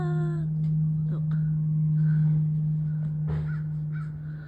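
A crow caws a few times outdoors in summer in Oregon, the calls fairly faint over a steady low hum.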